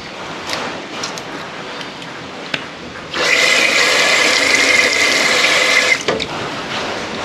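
Tap water running at a sink while crayfish are cleaned: a steady, loud gush that starts abruptly, holds for about three seconds and cuts off, with quieter handling noise before and after.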